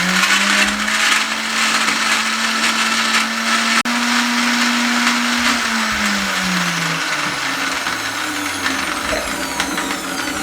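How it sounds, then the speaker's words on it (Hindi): A blender grinds cold milk and ice for an energy drink, running loud and steady with a strong motor whine that drops in pitch partway through as it labors. No one talks. "दोबारा से 1 मिनट के लिए इसको ग्राइंड कर लेंगे।"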